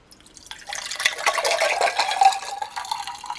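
Cold water poured into a freshly made color-changing vinyl cup, a steady splashing fill that swells after a quiet start and runs on for a few seconds close by, with no talking.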